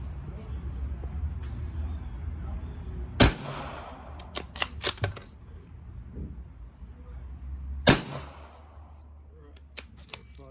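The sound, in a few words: unsuppressed gunshots from a Ruger 77/357 rifle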